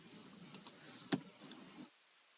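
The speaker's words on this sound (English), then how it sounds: "You can type in something like this and you can hit enter." A few scattered computer keyboard keystrokes and a sharper Enter key press, quiet and close over faint background hum that cuts off near the end.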